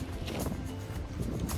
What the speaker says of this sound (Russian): Ветер еще сильный